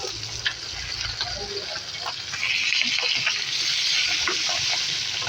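Mussels cook in a hot pan with a steady crackling sizzle that grows a little louder partway through, with faint scraping from stirring and no talking.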